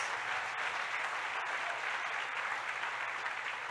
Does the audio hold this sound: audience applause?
yes